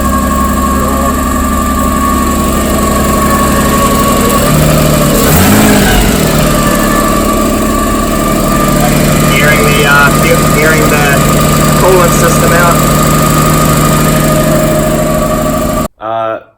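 Nissan Cefiro's RB25DET turbocharged straight-six running after a timing belt and water pump job, a loud steady idle with a brief rise in revs, cutting out just before the end.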